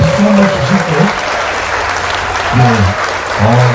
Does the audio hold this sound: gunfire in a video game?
no